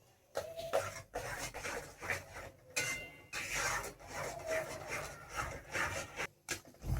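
A spoon stirs a thick carrot sweet mixture in a pan with steady scraping and rubbing, continuous and close, with short breaks.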